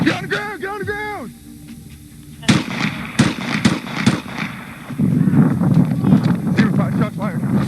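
Several sharp gunshots ring out during a police confrontation behind a park, loud, abrupt bangs scattered among shouted commands and radio chatter, with people yelling throughout.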